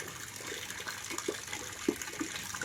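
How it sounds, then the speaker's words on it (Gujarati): Water running down from the hill at an ashram, a soft continuous trickle and gurgle with a few small splashes, faint and steady. "આ પાણી ચાલુ છે ને? આમ ચાલુ ડુંગરમાંથી આવતું હશે ને પાણી?"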